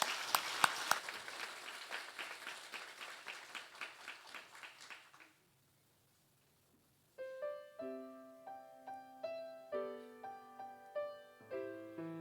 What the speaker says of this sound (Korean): 우리 교수님에게도 큰 박수로 여러분 축복해 주시기 바랍니다